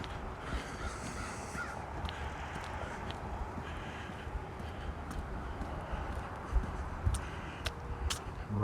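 A crow caws several times, fairly far off, over quiet outdoor ambience on a spring walk along a path in a riverside park in Regina, with a few sharper calls toward the end.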